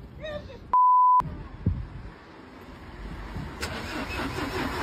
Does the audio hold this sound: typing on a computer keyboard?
no